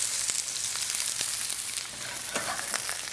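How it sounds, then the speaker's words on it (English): Onions sautéing in a hot pan beside a deep fryer in a Caribbean Creole grill kitchen, with a steady close sizzle broken by small crackles and pops throughout. "while that's browning, deep frying, we're going to saute some onions"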